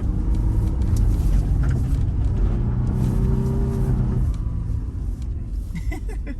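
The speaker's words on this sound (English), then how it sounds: "So, can we do some donuts or like just around the skid pad?" A Toyota 4Runner on Bridgestone Blizzak snow tires circles a snowy skid pad, its engine a steady loud rumble that eases slightly toward the end, with faint voices in the cabin.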